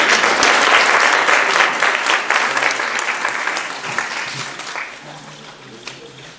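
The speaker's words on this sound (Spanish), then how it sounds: "Un fuerte aplauso para Rafael." Audience applause at an academic conference on death studies in Puebla, a dense burst of clapping that starts loud and slowly thins and fades over several seconds, with a faint voice low underneath.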